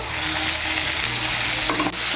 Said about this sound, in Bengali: সামান্য একটু হলুদের গুঁড়ো দিয়ে ঝিঙেগুলোকে ভেজে নেব